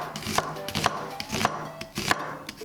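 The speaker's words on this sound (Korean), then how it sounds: "먼저 대파 10cm 정도 송송 썰어주세요. 그리고 양파 2분의 1개는 채 썰어주세요" A knife chops green onion and onion on a cutting board, four distinct, evenly spaced sharp thuds, close and clear with no talking.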